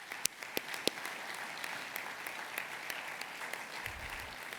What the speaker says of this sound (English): I'd like to give applause to the Kennedy family for their commitment to helping children,